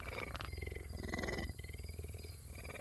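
A big cat purrs in a close, continuous low rumble with steady pulsing throughout, with no talking over it.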